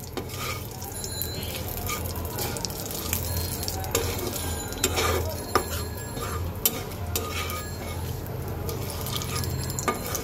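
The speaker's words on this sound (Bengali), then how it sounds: "দিয়ে দিলাম দুটো তেজপাতা। এটাকে সুন্দর করে আগে ভেজে নেব।" Bay leaves and a dried red chili fry in hot oil, giving a steady close sizzle with faint scraping stirs and light utensil ticks throughout.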